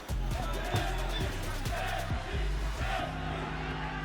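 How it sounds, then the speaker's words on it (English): A boxing arena crowd in Nagoya roars and cheers during a bout, a broad wash of voices under close commentary and a steady music bed. "Crowd getting a little bit more vocal"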